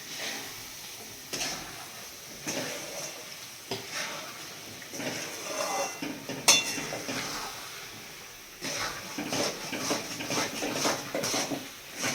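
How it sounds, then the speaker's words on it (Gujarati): A khoa and grated coconut sweet mixture is stirred in a metal pan, with repeated scraping and clinking of a spoon against the pan, moderately close and without talking. "માવાને મિક્સ કરી નાખવાનું"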